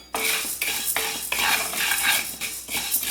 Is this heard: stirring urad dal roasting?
yes